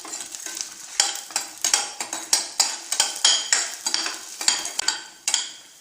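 Chana dal, urad dal and red chillies being roasted in a pan, stirred with a utensil in steady repeated scrapes, close and fairly loud with a light sizzle beneath.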